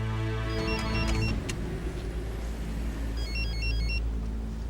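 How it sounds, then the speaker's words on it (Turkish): A mobile phone ringing with a repeating electronic melody in short patterned bursts, pausing and then resuming, over a low steady background hum, with no talking. "Abi bak şu telefonuna."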